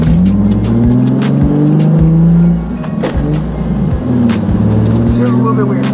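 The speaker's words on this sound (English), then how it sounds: "Go second gear. Ooh! That is some nice shifting right there." Nissan 350Z engine revving hard and loud, its tone climbing then dropping sharply as the gears change, with a smooth rise again after each shift.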